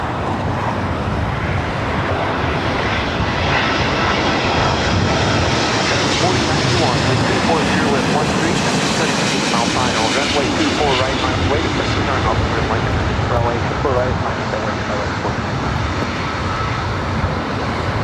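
E-Jet airliner engines roar steadily at LAX, a broad, loud jet wash that swells and holds for the whole span, with faint radio chatter mixed underneath.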